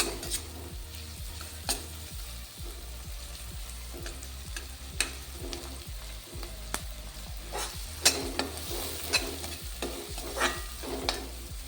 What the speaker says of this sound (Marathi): आता आपण त्याच्यात कांदासुद्धा परतून घेणार आहोत म्हणजे आपल्या ठेच्याबरोबर आपला कांदासुद्धा भाजून जाईल